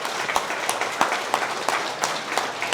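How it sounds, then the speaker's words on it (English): Wedding guests applaud in a room, with a bed of many hands clapping and louder individual claps standing out at a steady, regular beat. "So let's give them a round of applause as well."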